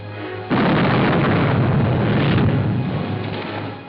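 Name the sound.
cannon shot fired across a ship's bow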